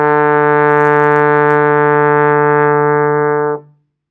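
A trombone sustains a steady low D in fourth position, with the slide's sleeve at the edge of the bell. One clear, loud held note lasts about three and a half seconds before stopping cleanly.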